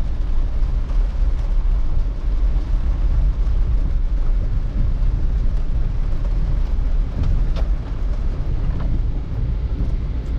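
Thunderstorm rain heard from inside a Jeep: a dense, continuous low rumble and hiss of rain on the vehicle, loud and steady throughout with no talking.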